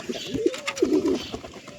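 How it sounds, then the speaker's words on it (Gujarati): Soft, throaty coos of a female grey pigeon rising and falling in a short close-up phrase, with faint chirps and rustling in the background. "આ આપણે રાખોડી કબૂતર ની નારી છે"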